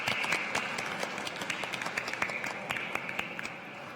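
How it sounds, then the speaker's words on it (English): Audience applause for yoga masters and volunteers on stage at a Yoga Day event, a soft, steady patter of many hands with a few sharper claps, heard at a distance and fairly faint. "Let's give a big round of applause to our yoga masters and volunteers on stage."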